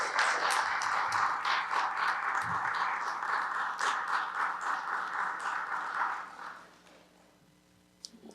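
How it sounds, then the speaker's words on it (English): An audience at a public ceremony applauds in a dense, steady wash of clapping that holds for several seconds, then fades out to near silence. "Can we please have a round of applause for those people?"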